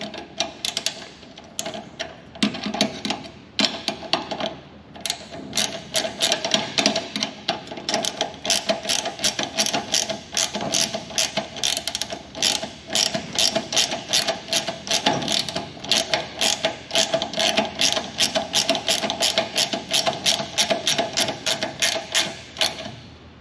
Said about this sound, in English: Now I can do that up. With my ratchet ring.